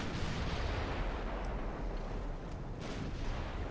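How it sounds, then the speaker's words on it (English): Naval gunfire in Ultimate Admirals: Dreadnoughts, a dense continuous rumble of distant artillery booms from warships and light cruisers, low and heavy throughout with no clear gaps. "Someone is shooting me from over there."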